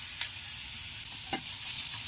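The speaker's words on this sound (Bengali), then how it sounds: "কাঁচা লঙ্কাটা ভাজা ভাজা হলে এবার পেঁয়াজ কুচিগুলি দিয়ে দিলাম" Chopped onions and green chilies sizzle in a pan for a veg Mughlai paratha filling, stirred as they fry. A continuous close hiss carries a couple of brief scraping strokes from the spatula.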